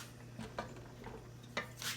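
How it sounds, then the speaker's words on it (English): A whisk mashes and stirs melting chocolate fudge in a pot, giving a few faint, separate metallic clinks and scrapes against the pan in a quiet kitchen. "Get my whisk and kind of mash it up there."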